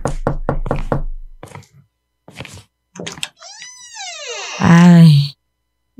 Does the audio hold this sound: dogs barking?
no